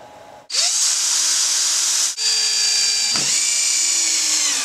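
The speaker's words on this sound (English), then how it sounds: "And then it's going to attach with 4 screws, top and bottom." A power drill drives screws into a wooden lock bar on a goat stanchion, whining loudly and steadily in close, sustained runs broken by two short stops where the motor pauses and restarts.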